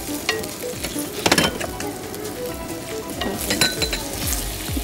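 Chicken meat fries in a pan with a steady loud sizzle, broken by stirring and a few clinks of a utensil against the pan. No one speaks.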